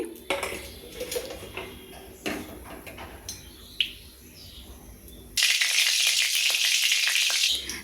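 Mustard oil goes into a hot kadai: a few metal clanks and scrapes of utensils come first, then a sudden loud, steady hiss of sizzling that lasts to the end.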